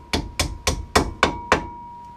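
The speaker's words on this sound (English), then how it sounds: "then just tap it with a hammer," A hammer taps a brake pad pin into place on a Mercedes E55 AMG six times in an even, evenly spaced rhythm, each blow a sharp metallic knock up close with a brief ring in a quiet space.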